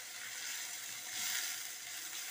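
Water added to caramelized onions in a pot brings a steady, bright sizzle and hiss that swells briefly midway, with no one talking.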